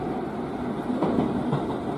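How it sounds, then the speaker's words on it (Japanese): JR 205 series electric commuter train in motion near Momoyama station, a steady rolling rumble with faint rail clatter and a low motor hum heard from inside the car. "今度はこちらの205系に乗るわけですけれども"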